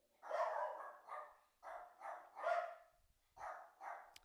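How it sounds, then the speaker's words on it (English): Several dogs bark in repeated bursts, about seven loud, fairly close barks with short gaps between them, and no talking. "The dogs are going crazy."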